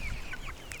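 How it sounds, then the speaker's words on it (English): Young meat chickens on an Australian homestead give a few faint, high peeping chirps over a quiet background, ending with a brief louder rustle. "Oh, hello chicks."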